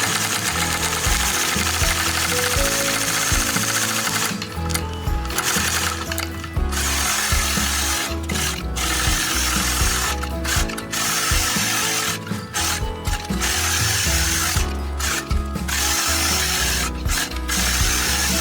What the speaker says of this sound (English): I've stitched all of those lines evenly spaced 1/2 inch apart